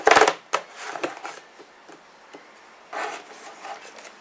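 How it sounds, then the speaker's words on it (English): Tarot cards are shuffled in quick rustling bursts, a dense scraping flutter at the start, then scattered lighter riffles and a second short run of shuffling, close and fairly loud. "I'm shuffling."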